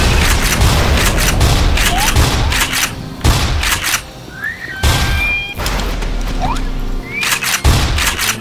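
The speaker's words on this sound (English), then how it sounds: "And it's also nice when I shoot these things in the face." Gunfire in the Black Mesa video game as creatures are shot, loud close bursts of booming shots in several volleys, with whistling electronic effects between them.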